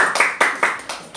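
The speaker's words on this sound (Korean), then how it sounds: "우리 박수 한번 칩시다." During an online discussion forum on the future of Korea's Ministry of Gender Equality and Family, a few people clap in about six sharp, separate bursts, close and uneven.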